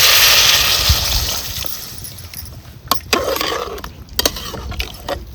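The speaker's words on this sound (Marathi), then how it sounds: "आता एक तांब्या पाणी ओतते ह्याच्यात." Water from a pot is poured into a cooking pan for village-style pavta rice, a loud rushing splash that gradually subsides, followed by a few clinking scrapes of metal.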